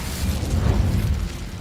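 The Incendio fire spell in Hogwarts Legacy erupts as a deep, rumbling whoosh of flame, swelling and fading over a second and a half with a low, rolling roar.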